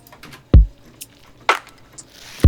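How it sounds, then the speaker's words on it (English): A full electronic drum mix plays with deep kick thumps roughly once a second, snappy hits and bright hi-hat ticks between them, fairly loud and with no voices. "So the drum mix all together sounds like this."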